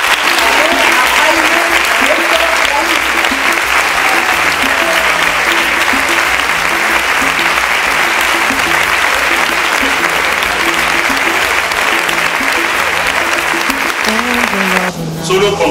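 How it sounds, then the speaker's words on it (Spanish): A crowd at a charity magic show gives loud, continuous applause, steady and dense clapping for the whole stretch with a faint musical tone running underneath before it cuts off at the very end. "Que reciban el aplauso que se merecen"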